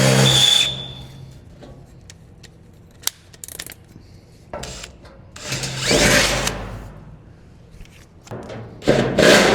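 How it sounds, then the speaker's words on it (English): Power drill boring into a brand-new race car during a fuel cell and fuel system install, heard up close as several loud bursts of grinding, whirring drilling separated by quieter pauses. "As much as it pains me to drill into my brand new race car"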